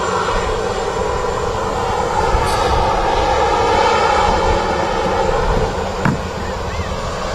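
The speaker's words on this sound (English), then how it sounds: "Behind the 777 is a Ryanair in from Rome." A Ryanair airliner arriving at Manchester Airport, a steady broad engine roar with wind rush, held at an even loudness throughout and heard from a moderate distance.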